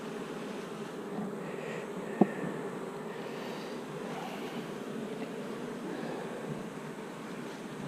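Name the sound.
bees buzzing around a hive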